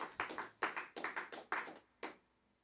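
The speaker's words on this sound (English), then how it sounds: "The clapping has greatly improved." A small concert audience claps in a few separate, uneven bursts that thin out and stop, quiet and somewhat distant, with no voices.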